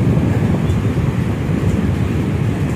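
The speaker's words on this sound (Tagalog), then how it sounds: "Ayan na, papunta na dito yung tubig." Steady rushing ocean surf washing up a beach at Bagasbas, with wind buffeting the microphone, a continuous wash of water noise with no clear breaks.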